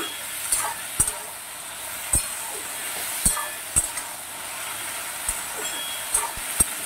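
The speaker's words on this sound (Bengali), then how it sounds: "লবণটা দিয়েও আর একটু নেড়ে ছেড়ে নেব।" Ridge gourd sizzles steadily in a hot pan while a spatula stirs it, sending sharp metallic clinks every second or so over the continuous close frying hiss, with no voices.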